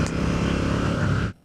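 A Royal Enfield Classic 650 motorcycle rides along with a steady, loud engine drone and rumble that holds evenly, then cuts off abruptly near the end.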